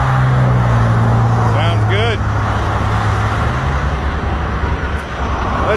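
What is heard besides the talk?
semi truck engine running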